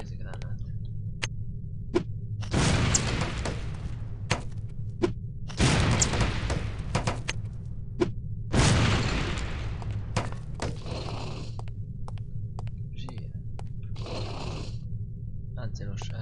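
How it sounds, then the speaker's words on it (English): Lipstick explosives detonate on impact in No One Lives Forever, several sharp blasts going off one after another over a low steady hum, with a voice speaking between and over them. "These relatively inconspicuous-looking lipsticks are actually powerful explosive devices that detonate on impact"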